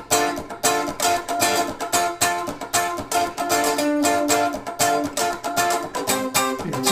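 Clean electric or acoustic guitar strummed in a steady chorus rhythm, with sharp, evenly spaced strokes ringing close and loud with no voice over it.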